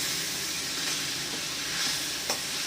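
Agathi spinach poriyal with grated coconut being stirred in a pan, a steady close sizzle and hiss under soft scraping strokes, with one brief clink near the end and no talking.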